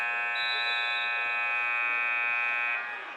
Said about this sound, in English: Apologies for that buzzer again.